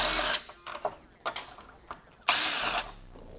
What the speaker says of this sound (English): if you're using manual tools, I recommend getting a box wrench or an open-ended wrench around this nut from behind